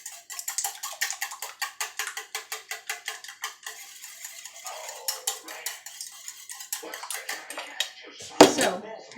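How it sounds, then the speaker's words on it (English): A fork or whisk beats eggs in a bowl for keto blueberry muffin batter, giving a fast, steady run of close clinking strokes against the bowl that slows toward the end, with a louder knock near the close. "So continue beating up our eggs here."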